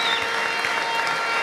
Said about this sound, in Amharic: ቆሞ ለእግዚአብሔር ለአምላኩ እልልታ ጭብጨባ